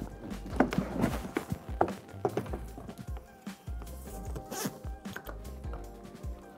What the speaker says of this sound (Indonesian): Ini ada resleting yang bisa dibuka